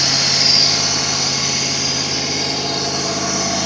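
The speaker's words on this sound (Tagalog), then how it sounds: "There is idling, high idling." A 1996 Lexus LS400 engine idles and holds a raised idle after a wiring repair, a steady continuous hum at close range with no voices over it.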